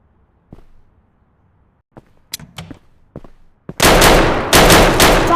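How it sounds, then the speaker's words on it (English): Gunfire during a tense standoff at a house: a few sharp, isolated cracks ring out, then a loud, sustained barrage of rapid shots erupts and dominates the end. "Shots fired. Shots fired."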